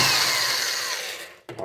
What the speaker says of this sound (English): And I'm going to use some power tools.